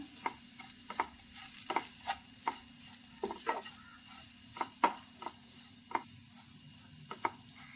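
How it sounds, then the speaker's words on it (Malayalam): Spices, asafoetida and fenugreek powder, stirred in a frying pan for an okra tamarind curry: a soft sizzle under a regular series of sharp scraping clicks from the spoon, close and fairly quiet. "ഇനി എല്ലാം കൂടി ഒന്ന് ഇളക്കി കൊടുക്കാം"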